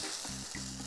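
Pumpkin-potato fritters fry in a pan, giving a steady close hiss and crackle of hot oil with soft low thumps, with no voices.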